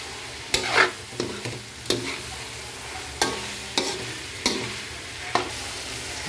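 Garlic fries in a pan for pork pochero, with onion and salt already in, a constant sizzle broken by sharp scraping stirs of a spatula every second or so, no voices.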